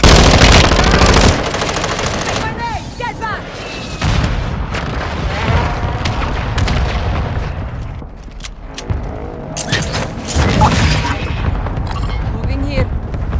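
Rapid small-caliber gunfire from a modern military shooter video game, loud and sustained bursts mixed with booms and game effects throughout, with a voice speaking over the action.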